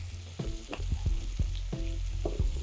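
Onions and peppers sizzle on a griddle alongside steak for Philly cheesesteak sliders, a constant close frying hiss broken by several quick scraping and tapping strokes from a spatula.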